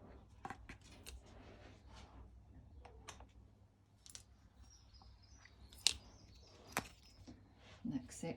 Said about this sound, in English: drawing my scissors back.